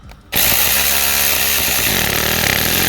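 A power tool with a 12 mm socket spins a nut off a 2015 Skoda Rapid turbo, starting abruptly with a loud, close, continuous whirring buzz that holds steady to the end.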